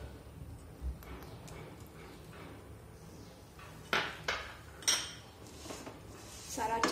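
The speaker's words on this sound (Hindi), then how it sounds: "सारा अच्छे से मिक्स करेंगे।" A spoon clinks and scrapes against a pan or bowl while dry fruits and cardamom are mixed into til gur chikki, a few sharper knocks standing out over a quiet kitchen background.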